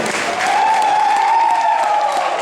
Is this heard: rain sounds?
no